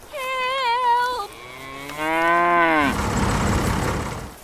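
A cow moos twice in a barnyard setting, a long wavering call followed by a deeper drawn-out low that trails off into rustling noise, close and loud with no speech.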